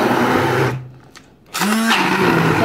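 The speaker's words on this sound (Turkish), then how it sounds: "Bunu şimdi biraz da blenderdan geçireceğim." An electric blender purees a tarhana mixture for Maraş-style tarhana chips, running loud and close, cutting out briefly near the middle, then whirring back up to full speed.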